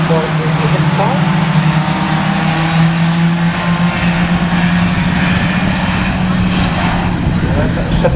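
Onboard sound from inside Mike Gilbert's Class 1 autograss racing car, its engine droning steadily and loudly throughout, with a commentator talking over it.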